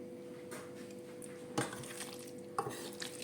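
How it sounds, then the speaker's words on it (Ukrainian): A spoon stirs a minced meat mixture for homemade Ukrainian sicheniki cutlets in a bowl, giving a soft, close, continuous scraping with two sharper clinks against the dish partway through. "Зараз перемішати добре."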